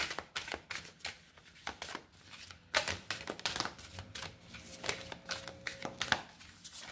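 Oracle cards being shuffled by hand in a steady run of quick, crisp flicks, slaps and riffles, fairly close and moderately soft, with no talking.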